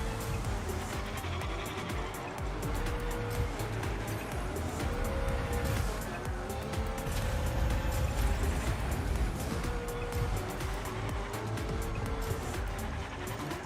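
Race car engine in the video game Rocket Racing, a continuous loud roar with shifting pitch as the car accelerates and drifts through turns, mixed with game effects and no speech.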